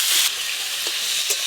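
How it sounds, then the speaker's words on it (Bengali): Wet cauliflower pieces frying in hot oil seasoned with salt and turmeric give a continuous close sizzle, broken by a few soft clatters of stirring. "এবার ফুলকপিগুলো ভাজবো।"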